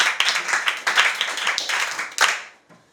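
Classroom applause bursts out for a pupil: a dense, fairly close patter of many hands clapping together, which fades out near the end.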